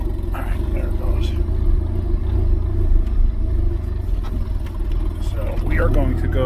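A car with a plugged intake manifold drives up a street, its engine a steady low rumble with some accelerating. Someone talks over it throughout.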